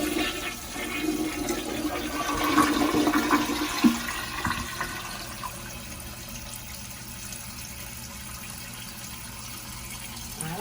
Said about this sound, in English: So I just want to do the flush test to see if I need to loosen up my lever or tighten it up.